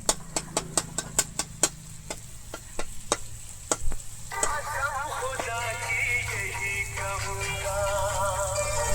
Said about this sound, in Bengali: এটা লাল লাল করে হালকা ভাজা হবে